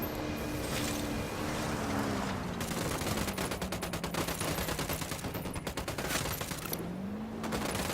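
Sustained gunfire in the Bolivian setting of the video game Ghost Recon Wildlands, a dense crackling fusillade of rapid shots running throughout over a steady engine-like drone.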